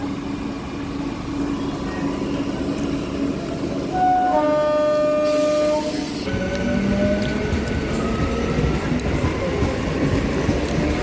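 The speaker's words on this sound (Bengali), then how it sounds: "ট্রেন চলে যাচ্ছে, পুরো ফাঁকা দেখ।" A train passing close by, a steady heavy rumble and clatter of wagons with tonal screeching and whining that rises and fades, while faint voices are heard in the background.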